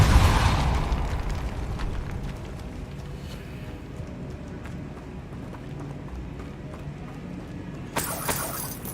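A Depulso spell is cast in the Hogwarts Legacy video game as a burst of magical whoosh at the start, then a low, steady rumble, ending in a second bright burst of sound.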